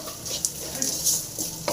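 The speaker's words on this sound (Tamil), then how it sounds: "ஆனால் வெங்காயம் நல்லா ஃப்ரை ஆகிருக்கு." Onions frying in a pan and being stirred, with a low steady sizzle and occasional scrapes and clinks of a spoon against the pan, close and fairly quiet, no talk.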